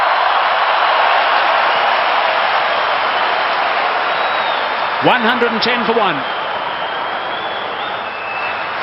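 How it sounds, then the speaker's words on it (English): Spectators at a South Africa versus Australia ODI cricket match roar in a loud, sustained wash of cheering that carries through the whole stretch, while a commentator talks briefly partway through. "Listen to the crowd."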